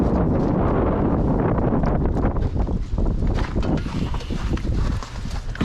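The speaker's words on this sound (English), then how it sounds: "it's a bit windy for it right now" Strong wind outside a lightweight travel trailer buffets the microphone in a loud, low rumble, with gusts rising and falling and some faint knocking underneath.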